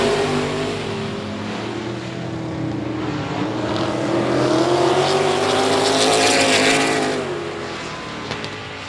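Race cars lap I-37 Speedway on a late-race circuit, loud multiple engines roaring and rising in pitch as the pack sweeps past, swelling to a peak before easing off.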